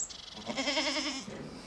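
A single goat bleat, close and clear, a wavering nasal cry lasting under a second against quiet background.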